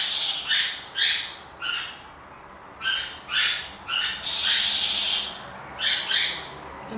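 Pet birds indoors in the morning let out repeated raspy squawks in short bursts, about a dozen harsh calls in quick irregular succession, fairly close and loud with no talking.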